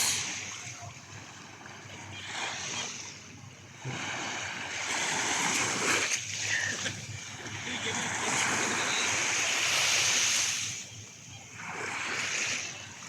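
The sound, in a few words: sea waves at Boracay beach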